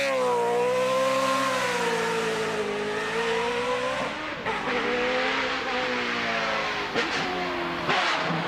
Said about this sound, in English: It's a high revving V8 and it sounds awesome.